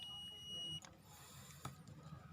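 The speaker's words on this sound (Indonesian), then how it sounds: "di sini ada suara buzzer. Ini menandakan ada kontinuitas atau hubungan." A digital multimeter's continuity buzzer gives a steady high electronic tone for under a second, then cuts off, leaving faint clicks and room noise, with no talking.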